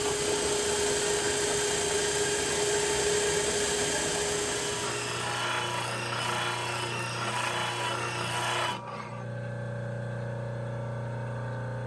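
A power cutting tool slices a steel piece in half while building an industrial sewing machine table, giving a loud, steady abrasive grinding whine for about nine seconds before the cut ends and the motor drops to a lower hum.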